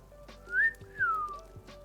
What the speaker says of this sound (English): I wonder if the stream can hear him whistling right now.